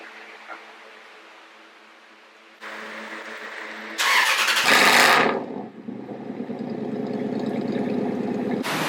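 A very loud 2004 Toyota Tundra engine cranks and fires, then roars and settles into a steady rumbling idle, close and strong with no talking.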